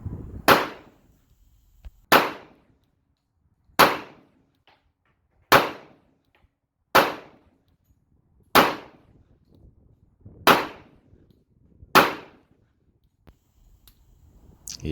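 Single gunshots from a Rock Island Armory M1911 A1 .45 ACP pistol, nine loud sharp reports fired at a steady pace about one and a half seconds apart, each decaying quickly, with no talking between them.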